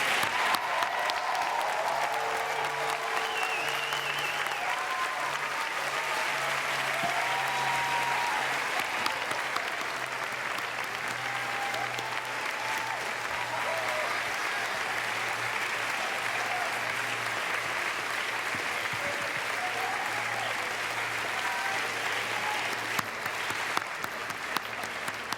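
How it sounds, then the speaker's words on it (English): Sustained audience applause for Dean's List students at an academic awards ceremony, a dense, even wash of many hands clapping that holds steady for the whole stretch. "give you a round of applause for this outstanding achievement"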